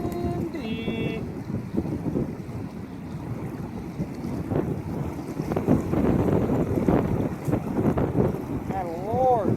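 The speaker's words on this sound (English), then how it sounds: "It is super windy." Strong gusts buffet the microphone beside a bass fishing pond, a steady roaring rumble that swells louder toward the end, with a brief reel-like whine early on and a voice talking intermittently underneath.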